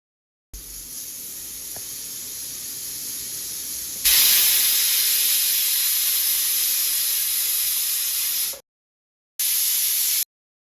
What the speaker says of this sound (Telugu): స్టవ్ ఆన్ చేసి కుక్కర్ ని పెట్టుకొని హై ఫ్లేమ్ పైన 3 విజిల్ వచ్చే వరకు ఉడికించుకుందాం